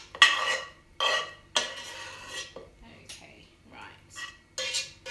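A pot scraped with a utensil while making macaroni pie: several loud, close metallic scrapes and stirring strokes come in bursts separated by short pauses, with a brief spoken remark.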